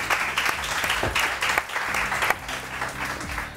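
A television studio audience on a morning talk show gives a short round of rhythmic clapping, with distinct claps in a loose pulse and voices mixed in underneath.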